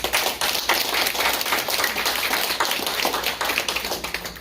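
Church congregation at a new-sanctuary dedication service gives steady, vigorous applause, a continuous dense patter of many hands at moderate distance with no talking over it.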